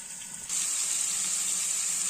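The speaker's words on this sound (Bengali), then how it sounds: "কোয়াশার আলুগুলো বেশ কিছুটা ভাজা ভাজা হয়ে গেছে" Squash and potatoes frying in a pan, a steady bright sizzle that swells after a brief quieter start and holds evenly, close and moderately loud.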